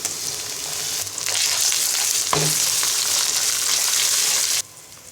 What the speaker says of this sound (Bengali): পেঁয়াজটা ভাজা হয়ে গেলে এবার দিয়ে দিব এক টেবিল চামচ পরিমাণ আদা বাটা